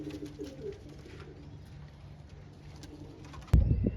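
Indian Lakha pigeons coo softly and repeatedly in low, throaty tones, then a sudden loud clatter breaks in near the end.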